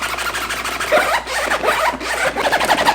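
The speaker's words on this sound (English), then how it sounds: "I love a good zipper" The zipper on an Airback travel backpack is pulled along in a few quick, close, rasping strokes, crisp and alone with no voices.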